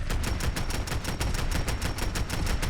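Sustained automatic fire from a Hyde .30 automatic carbine weapon mod in Fallout 4, a fast, evenly spaced stream of loud close shots with no break and no voice.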